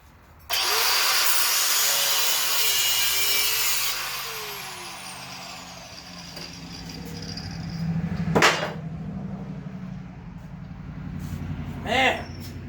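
Saw cutting through parts of a Ford Ranger being stripped for a Baja build, a loud, dense rasping run for the first few seconds, then quieter scraping with a couple of sharp metallic knocks and clanks.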